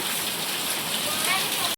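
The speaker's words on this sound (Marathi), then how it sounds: "आणि पाऊस पण खूप पडतोय." Steady, dense rain pours down without a break, a continuous hiss of heavy rainfall with no voices over it.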